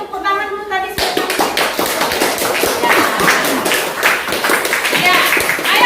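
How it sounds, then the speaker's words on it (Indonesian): Schoolchildren in a classroom clap their hands in quick, sharp, fairly uneven bursts, close and lively. A short sung or voiced tone comes just before the clapping, and children's voices are mixed in. "Beri tepuk tangan dulu tadi sudah."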